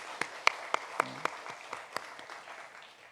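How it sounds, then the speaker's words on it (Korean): A church congregation at an early-morning prayer service gives a short round of applause: about a dozen sharp, separate claps in an uneven rhythm that thin out over three seconds in a quiet hall. "7월 첫날을 우리에게 선물로 주신 주님께 영광의 박수를 올려드렸으면 좋겠습니다."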